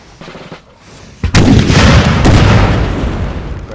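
Artillery guns fire in a Napoleon: Total War battle, Battle of Caldiero 1805: a loud close boom hits, then a second blast rolls over it into a sustained thundering rumble of cannon fire.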